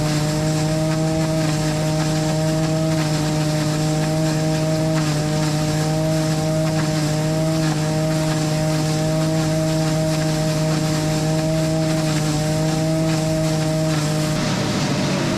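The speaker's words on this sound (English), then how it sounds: "The hammer mill is right in there in that little chamber." A hammer mill grinding ear corn into silage, giving a loud continuous mechanical drone with a strong steady hum and harmonic whine, holding nearly unchanged for fifteen seconds with no talking.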